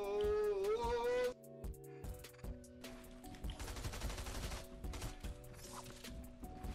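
Video game gunfire rings out in sharp, rapid bursts of shots, starting after a brief stretch of tonal game sounds and repeating in clusters to the end.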